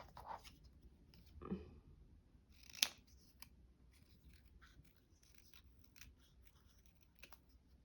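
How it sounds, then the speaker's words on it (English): Scissors snipping out paper pieces, a few quiet close cuts with soft paper rustles between them in an otherwise hushed room. "So we've got to cut all these out."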